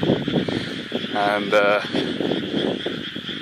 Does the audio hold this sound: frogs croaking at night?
yes